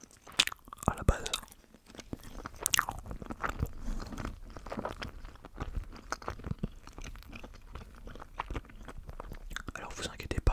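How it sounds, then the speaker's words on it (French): Close, wet chewing and crunching of a candy at an ASMR tasting, irregular bites and soft mouth sounds with faint whispering mixed in. "on va manger un bonbon de Jack"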